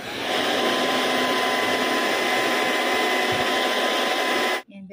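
A hair dryer blows steady loud hot air at close range to heat a price tag on a gift, a continuous whooshing hum that cuts off abruptly at the end.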